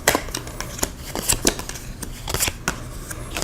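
Orange location cards from the Shadow Hunters board game are shuffled by hand, giving a quick run of crisp papery riffles and flicks at close range with no talking.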